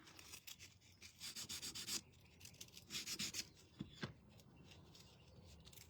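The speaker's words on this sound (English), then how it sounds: "you can kind of sand it off just like you see me doing right here" Sandpaper scrubs wax off the surface of a bunny painting in short bursts of dry rasping, with a few pauses between strokes. The rubbing is close and moderately quiet.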